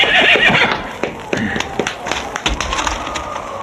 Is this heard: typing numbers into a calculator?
no